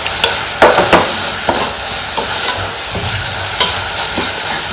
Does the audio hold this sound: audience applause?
no